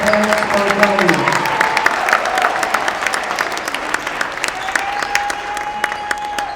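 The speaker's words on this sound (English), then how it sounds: "let's have one last round of applause for these 2026 seniors and" Crowd applause fills a gym at a 2026 high school basketball senior night, honoring graduating seniors and their parents; steady, loud clapping and cheering runs throughout, with a voice heard briefly near the start.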